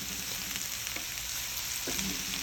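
Leeks frying in a pan while being stirred, a steady close sizzle with a couple of soft scraping stirs partway through, no voices.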